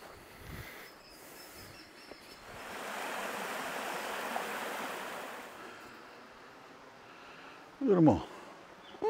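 Water rushing over rocks in a creek beside a rough, rocky walking track, heard as a steady broadband wash that swells in the middle, with a brief louder splash or scrape near the end and faint voices.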